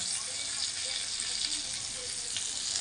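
Spices fry and sizzle steadily in a pan for chicken curry, a continuous close hiss with faint stirring throughout.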